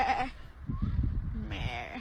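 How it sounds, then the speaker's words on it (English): A sheep gives a short bleat that ends in a low, burp-like grunt, fairly close and loud, with voices talking over parts of it. "that sheep sounds like it was burping though"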